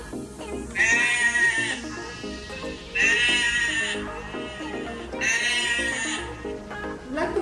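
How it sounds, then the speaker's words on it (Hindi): Sheep bleating three times in loud, drawn-out wavering calls, each lasting about a second with short gaps between, close and clear. "it's a sheep"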